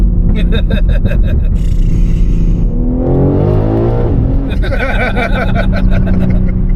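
A loud tuned 1400hp BMW M3 engine revs hard and drops, climbing and falling in pitch with a raspy, aggressive, jet-like roar; a voice talks briefly over it.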